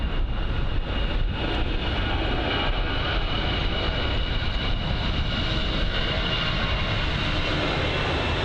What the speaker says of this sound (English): There is the Turboprop 380 on the move now